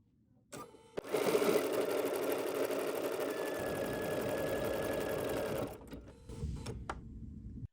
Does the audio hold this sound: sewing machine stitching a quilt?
yes